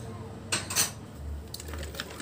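Metal utensil scraping and clinking against a pan while chicken shawarma pieces are stirred with spices and oil, a few short clatters followed by softer shuffling, close and moderately loud, no talking.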